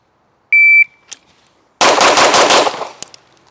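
A shot timer beeps once, then a rapid string of five pistol shots rings out on a range during a five-yard drill, loud and close, with echoing decay afterward.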